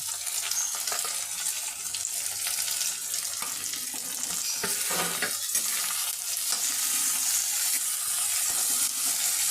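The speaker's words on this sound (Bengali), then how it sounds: "এটা আমি হালকা করে একটু ভেজে নেব।" Chopped carrot, capsicum and tomato sizzle and fry steadily in a pan, with continuous crackling and occasional scraping stirs throughout.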